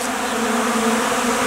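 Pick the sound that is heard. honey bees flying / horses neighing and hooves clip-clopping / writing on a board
honey bees flying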